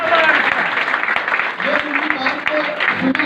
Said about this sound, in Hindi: मेरी वाइफ के लिए भी एक बार जोरदार ताली